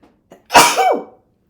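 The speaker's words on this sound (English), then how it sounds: "I'm going to sneeze" A person sneezes once, close and loud, with a short sharp inhale before the burst and a brief tail after it.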